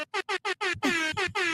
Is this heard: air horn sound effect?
yes